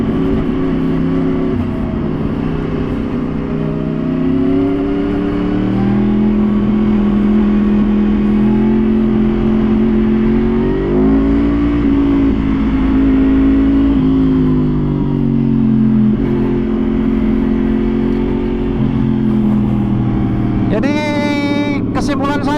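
Loud, sustained engine drone from a 2014 Yamaha R1 facelift motorcycle with full-system exhaust, BMC air filter and Power Commander, pitch rising and falling with throttle as someone talks over it, ending in a sharp high whine.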